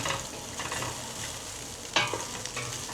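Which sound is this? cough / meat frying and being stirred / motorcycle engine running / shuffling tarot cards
meat frying and being stirred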